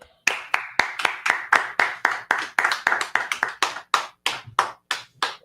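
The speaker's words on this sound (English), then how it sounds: "clap it up." A small group claps in steady, sharp bursts, each hand strike crisp and distinct, forming a brisk rhythmic run of claps at moderate distance with no talking.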